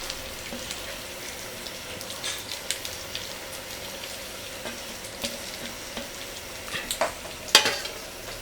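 Crisp-fried nethallu fish tossed and stirred in a pan, a steady low sizzle with scattered scraping taps of the spoon and a sharper clatter near the end, no voices.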